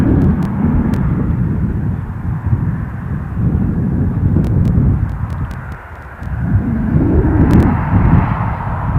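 A Jet2 airliner at Newcastle airport roars steadily at a distance, a broad low engine rumble that dips briefly near the end, with wind buffeting the microphone and a few sharp clicks.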